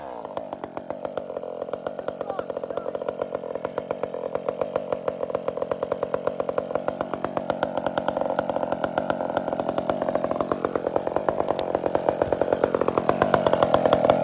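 A chainsaw makes a bore cut into wood, a loud close continuous engine snarl with a rapid chain buzz that rises in pitch and strain as it works in, with no talk.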